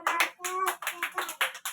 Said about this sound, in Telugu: క్లాప్స్ కొట్టండి చందన్కి